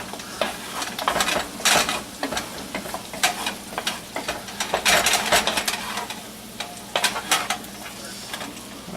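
Potatoes, onion and sausage frying in a pan are stirred with a utensil, giving repeated close scraping clanks over a steady sizzle for about nine seconds.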